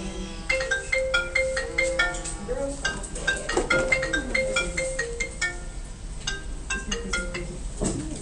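A mobile phone ringtone plays from a phone hidden in a classroom dry-erase basket, a repeating tonal melody that is clear and moderately loud for several seconds, with faint background voices.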